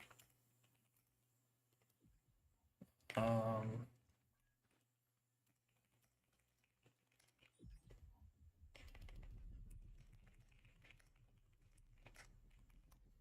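Brief burst of keyboard typing, a quick cluster of close key clicks lasting under a second, followed by quiet and later low rumbling game noise.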